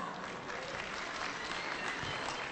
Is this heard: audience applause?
yes